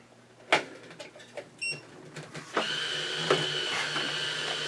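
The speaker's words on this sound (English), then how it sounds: "the auger's running again so we can juice again" A Zippy cordless juicer's auger starts after a few knocks and clicks of parts being fitted, then settles into a steady mechanical whir with a faint higher whine, running evenly at moderate volume.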